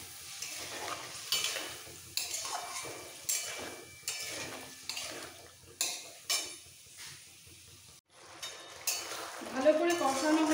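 A spatula stirs and sautés a Bengali white potato curry (sada aloor dom) with whisked yogurt in a pan, making rhythmic scraping strokes over a low sizzle, close by, with a voice briefly near the end.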